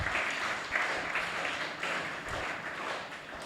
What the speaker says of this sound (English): We need to clap ourselves.